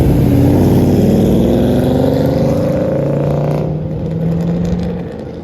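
A Chevrolet Camaro at a Cars and Coffee meet sweeps past with a loud, sustained engine note that climbs in pitch as it accelerates, then fades somewhat as it moves away.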